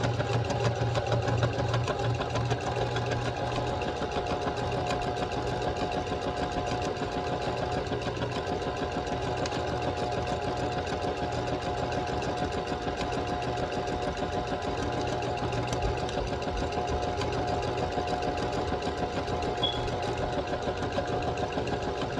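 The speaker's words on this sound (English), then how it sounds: "I go slow because I'm still just figuring this sewing machine out" A home sewing machine, newly acquired, runs slowly and steadily through fabric for sugar glider tunnels, its low mechanical hum continuing throughout with no talking.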